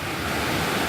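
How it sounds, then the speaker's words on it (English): Two waterfalls on separate rivers meeting at Mill Shoals and Bird Rock Falls in North Carolina, beside deep water. A loud, steady, broadband rush of falling water, close and continuous, with no voices. "two waterfalls from two different river bodies at the same time"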